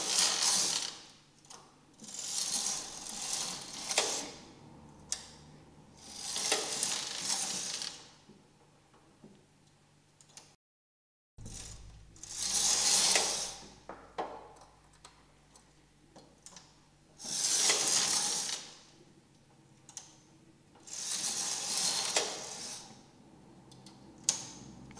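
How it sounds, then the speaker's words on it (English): Knitting machine carriage sliding across a row of needles, a whirring mechanical rasp with ticking clatter that swells and fades in repeated passes, with one brief silent gap midway and no voices. "I'm going to knit the first row from left to right."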